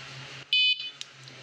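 A Guardian aftermarket golf cart alarm sounds a single loud, steady electronic beep lasting about a quarter second, followed by a few faint chirps, while its remote is being programmed.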